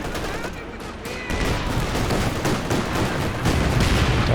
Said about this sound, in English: Double Scott barrage onto the flak.